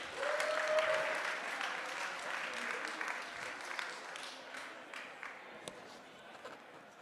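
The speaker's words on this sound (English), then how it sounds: "Massive round of applause." Audience applause for a panel at a business talk, a steady broad wash of clapping filling the room for several seconds and gradually thinning out, with a faint voice briefly underneath.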